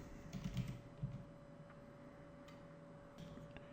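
Quiet keystrokes on a computer keyboard, a few soft taps clustered near the start and one more about a second in, then sparse faint clicks over a low steady hum.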